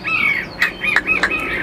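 A hwamei, a Chinese songbird, sings nearby in loud, clear whistled phrases with sharp rising and falling notes, several bursts in quick succession, with no talking.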